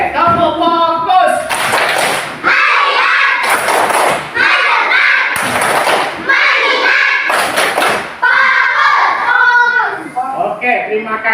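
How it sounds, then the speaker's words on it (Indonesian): A class of fourth-grade pupils performs a rhythmic clapping chant in unison, loud bursts of claps and thumps in repeated patterns, with children's voices chanting along and an adult teacher's voice between rounds. "Oke, tepuk fokus."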